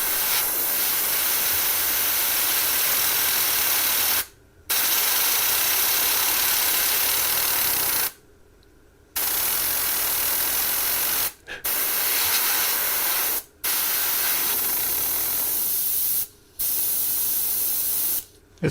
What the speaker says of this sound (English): Just using the airbrush to blow it.